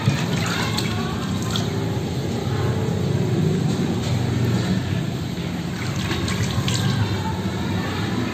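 Water poured by hand from a shallow pool during wudhu ablution, a steady close splashing and trickling stream that runs without a break, with faint splashes on top.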